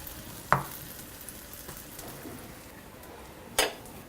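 An omelette sandwich fries in butter in a pan, giving a soft, steady sizzle throughout, broken by two sharp utensil clinks against the pan, one early and one near the end, with no talk.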